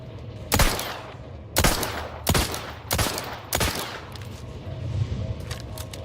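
Five sharp gunshots from a weapon fired in the video game The Outer Worlds 2, spaced unevenly about a second apart. Each is loud and close, with a short tail and low game ambience in between.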